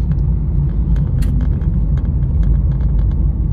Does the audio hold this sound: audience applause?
no